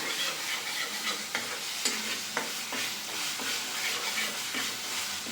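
Ground spices and red chilli powder fry in a pan for paneer butter masala, a constant close sizzle broken by repeated sharp scrapes and clinks of a spoon stirring, with no talking.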